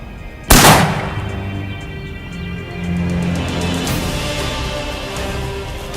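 A single loud shotgun blast rings out during an Osceola turkey hunt, a sharp report followed by a fading rolling echo and steady outdoor background noise.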